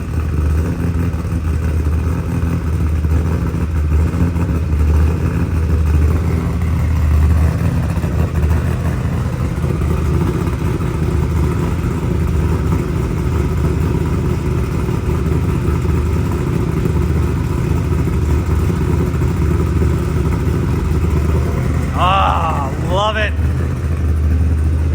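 A stroked, aggressively cammed LS3 V8 swapped into a 1994 Mazda RX-7 holds a loud, lumpy idle and revs throughout, close and continuous, with a brief voice near the end.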